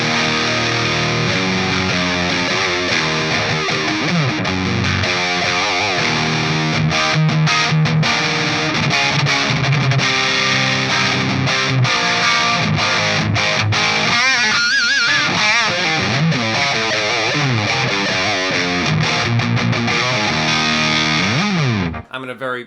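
Electric guitar driven through a SviSound CockedZoid distortion pedal into the clean channel of a Marshall JVM, playing loud, continuous, saturated 80s-style riffs for over twenty seconds before stopping abruptly.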